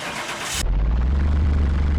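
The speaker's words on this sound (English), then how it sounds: "Oh yeah, fires right up." A Toyota AE86 car engine in Car Mechanic Simulator 21 cranks briefly and then fires up, settling into a loud, steady low rumble right after a short starter whir.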